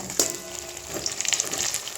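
Pumpkin flower fritters frying in hot oil on a rainy day, giving a steady close sizzle with scattered crackles and pops and no talking.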